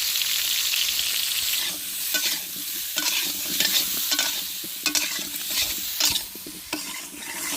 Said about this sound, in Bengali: আলুগুলো লাল লাল করে ভেজে নিয়েছি